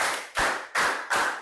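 Rhythmic counting clap game in a classroom lesson: four loud, evenly spaced claps close by, each with a short ringing tail, no voices over them.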